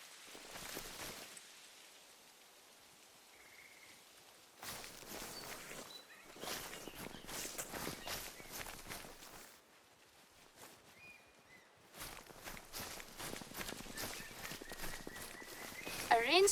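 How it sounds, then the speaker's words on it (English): A rainstorm in the video game The Call of the Wild, set in the tropical Terai near Sundarpatan, Nepal, comes and goes as faint, steady patter with brief gaps and soft footstep-like steps. "A rainstorm? Yeah, they're a thing in the tropical climate of the Terai sometimes."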